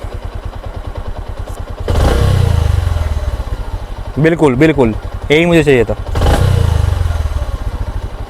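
Bajaj Platina H-Gear motorcycle engine after carburetor tuning: a steady ticking idle that swells into two throttle revs, then settles, with someone speaking briefly between the revs.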